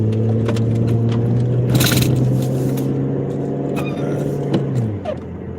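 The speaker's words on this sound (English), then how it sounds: "He pushing the car from the back." A car pushed from behind along a road, its steady engine hum and rolling tyre rumble droning continuously, with brief scraping noise midway and a faint voice in the background.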